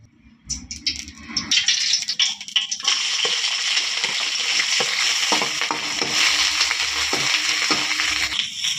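Bitter gourd curry frying in hot oil, a loud continuous sizzle that starts after a few clattering stirs and then holds steady, with occasional scrapes of a spoon in the pan and no voices.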